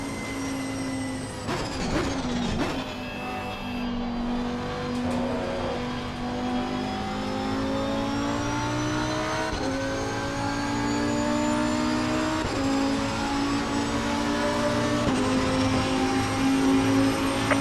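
A Lamborghini Huracan EVO GT3 race car lapping Monza in a racing video game, its engine droning steadily and loud throughout, pitch rising and falling through gear changes and corners, with no talk.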